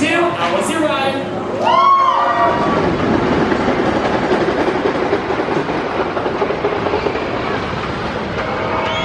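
A Carowinds roller coaster train with tiered cars rolls past, a loud, sustained rumble and rattle along the track after a brief high tonal sound and voices at the start.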